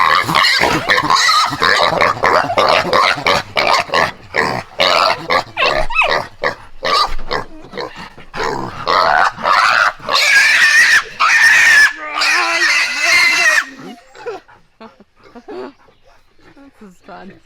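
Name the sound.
pet pig grunting and oinking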